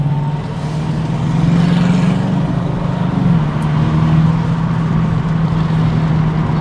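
Aston Martin DBX SUV engine heard from the road, a steady loud drone with pitch shifts as gears change down, continuous throughout with no talk over it.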